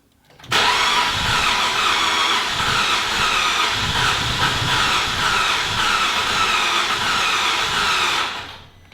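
A Cadillac/Chevy hot rod engine cranks continuously for several seconds, a steady loud whirring churn that sputters without fully catching, then cuts off.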